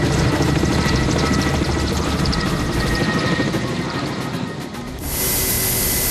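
A forestry service helicopter carrying a load of water toward a mountain forest fire gives a loud, steady rotor and engine roar that dominates throughout and shifts to a brighter, hissier tone near the end.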